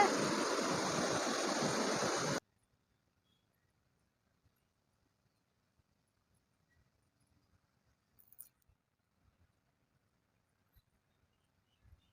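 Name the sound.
water pouring from Mettur Dam like a waterfall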